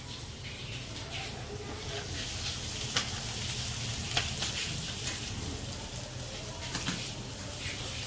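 Softened poha is tipped into a hot kadhai for kanda poha and stirred, giving a faint, steady sizzle with occasional scraping clicks from the spoon against the pan.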